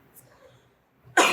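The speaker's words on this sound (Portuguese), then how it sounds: "Aí tô com uma tossinha já." A single loud, harsh cough bursts out near the end after a quiet stretch of low murmuring, close and abrupt.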